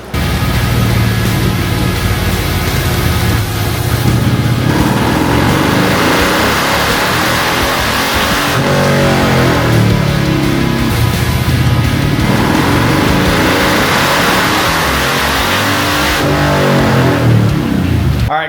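A 2017 Harley-Davidson Electra Glide tuned with Power Vision runs on a dyno, its engine droning loud and steady with repeated rising revs that swell and fall back across the whole run.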